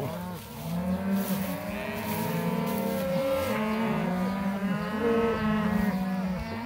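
A herd of cattle in a paddock moos loudly and continuously, many overlapping long bellowing calls close by, forming a dense chorus with no speech.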